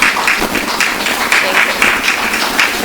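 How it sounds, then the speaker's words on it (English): Warm applause from an audience at a poetry reading, a dense, even patter of many hands clapping that carries steadily throughout at fairly loud level. "Let us please give her a warm round of applause"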